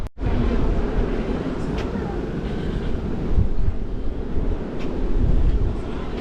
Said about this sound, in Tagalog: Lakas yung hangin dito guys.